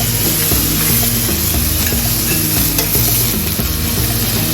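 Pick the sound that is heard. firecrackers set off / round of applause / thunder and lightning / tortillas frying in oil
tortillas frying in oil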